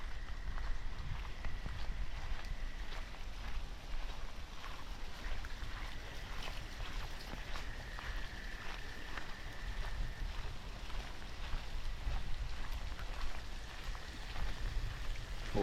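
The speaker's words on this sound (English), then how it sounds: "Lots of rain." Heavy Boxing Day rain falling on a flooding yard, a constant low, steady hiss and rumble of water with no breaks, moderately loud and unbroken for the whole stretch, no voices.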